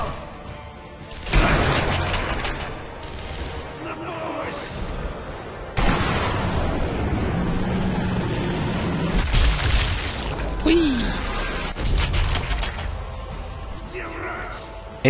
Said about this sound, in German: Können wir gleich mal die neue Waffe ein bisschen einweihen.